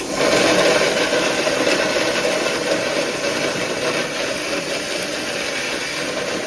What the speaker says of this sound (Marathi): मसाला घेतला मिक्सरमध्ये